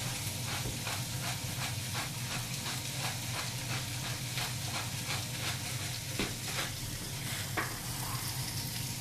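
Rainbow of mixed vegetables frying in a hot pan, a steady loud sizzle and hiss with faint rhythmic stirring scrapes throughout, no talking.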